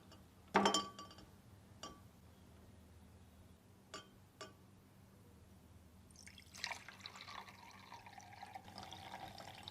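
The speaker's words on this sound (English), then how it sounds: "I'm going to go ahead and tilt this larger beaker so that the displaced water goes into the smaller beaker" Water is tipped from a larger glass beaker into a smaller one: a sharp glass clink, a few light taps, then a faint trickling pour in a quiet room.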